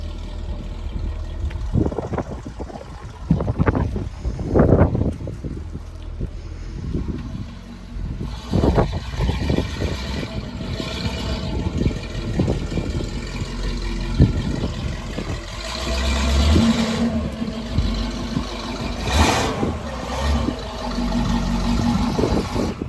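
A muscle car's engine running on its first test drive in 25 years, a low rumble with intermittent revving surges and wind buffeting against the microphone, continuous and close throughout.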